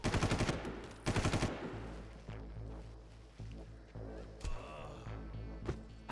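Bursts of rapid automatic gunfire ring out in the video game Far Cry, two loud rattling volleys at the start followed by scattered quieter shots and impacts over a steady low ambient rumble.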